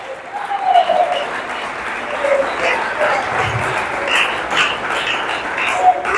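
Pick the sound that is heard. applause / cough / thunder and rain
applause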